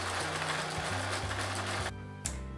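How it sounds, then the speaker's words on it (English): Sewing machine stitching a small piece of buckskin onto a bag made from an old wool shirt: a steady, close mechanical hum with rapid stitch rhythm, shifting pitch briefly as the stitch reverses, then a short pause and restart. "Gonna start my stitching, back it up a little to secure it,"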